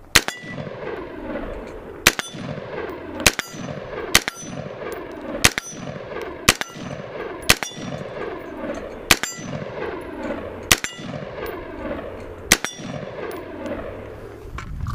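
An AR-15 rifle fires about a dozen shots at a steady pace of roughly one per second, each crack sharp and loud with a ringing metallic tail. No voices are heard.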